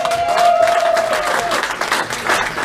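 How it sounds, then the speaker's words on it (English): Applause from a crowd at a book preview party, a few seconds of clapping with a faint tonal sound and murmured voices in the mix. "give a round of applause to Vanessa, please"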